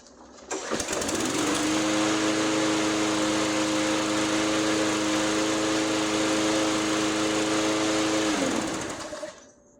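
A Troy-Bilt lawn mower engine, its carburetor freshly cleaned, catches after a brief start and runs steadily at a loud, even idle for about eight seconds before cutting off, with no voices.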